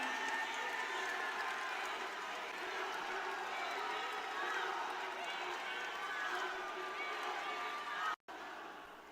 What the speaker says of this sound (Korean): 김민석 후보에게 응원의 박수 부탁드리겠습니다.